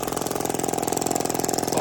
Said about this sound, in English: listen to it, it's idling.